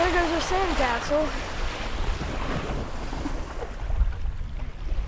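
Ocean waves wash onto a beach near condos in a steady, rumbling surf with strong wind buffeting the microphone, and voices are heard briefly at the start.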